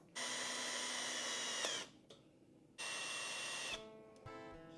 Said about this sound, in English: So you're supposed to drill it with a 3/64.